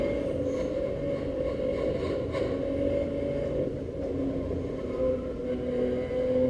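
A BMW M3 race car, lightened and stiffly sprung, drives at speed, heard from inside as a steady loud drone of engine and road noise that carries unbroken throughout.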